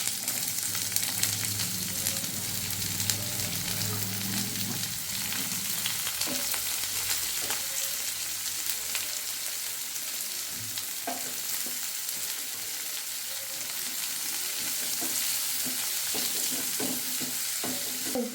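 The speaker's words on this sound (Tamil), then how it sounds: "சோம்பு நாலு வெந்தயம் போட்டுக்குவோம் பொரிஞ்சிருச்சு வெங்காயம் சேர்த்துக்கோம்" Onions fry in hot oil with fennel seeds and fenugreek for a fish kuzhambu, giving a steady, moderately loud sizzle with occasional stirring clinks and scrapes throughout.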